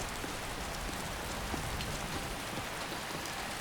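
Steady rain falls in the video game Skyrim just outside the city of Whiterun, a dense, even patter of drops on surfaces that continues unbroken, with no voices.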